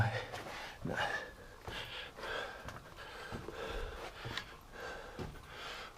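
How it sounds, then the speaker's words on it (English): A man breathes heavily inside a cave after hiking and caving, with panting, gasping breaths and snorts close to the microphone in an uneven rhythm. "Boy, I'm breathing heavy."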